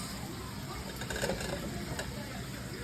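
Potatoes sizzle in a pan with cooked flour, giving a soft, continuous frying hiss with light stirring and scraping that swells briefly in the middle.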